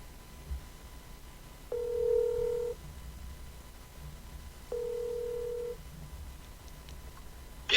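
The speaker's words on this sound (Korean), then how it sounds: "김동영 기자하고 전화 연결을 해서 한번 들어보도록 하겠습니다" A telephone ringback tone on a call being connected to a baseball reporter, with two evenly spaced rings of about a second each, clear and steady over a quiet line.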